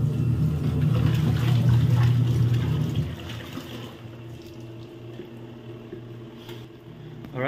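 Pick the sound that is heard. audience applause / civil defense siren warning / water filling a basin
water filling a basin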